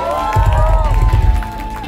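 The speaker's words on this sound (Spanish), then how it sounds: "Un aplauso para ellos" Concert crowd at a live show in Mexico City cheering and clapping loudly up close, with a swelling roar, shouts and voices in the mix.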